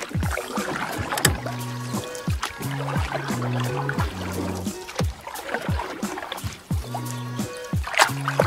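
A canoe moves on water with repeated paddle strokes, dripping and light splashes at an uneven rhythm, heard close by with some brief tonal sounds between the strokes.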